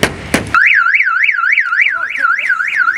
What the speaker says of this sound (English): Is your alarm on?